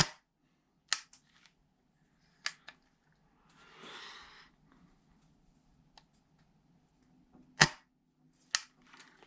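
Sharp, faint mechanical clicks from a Rossi .410 shotgun being dry-fired, several isolated snaps spaced a second or more apart, with a brief rustle between them in a quiet room.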